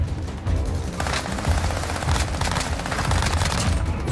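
Dense, continuous automatic gunfire and overlapping shots from Call of Duty Warzone, a loud unbroken barrage running the whole time with no talk.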